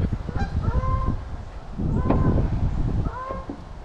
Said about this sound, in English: You can hear the geese flying over.